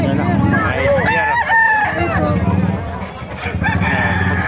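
A rooster at a chicken market in Bocaue, Bulacan crows loudly and close by, its rising, drawn-out call repeating among other fowl and market bustle while people talk nearby.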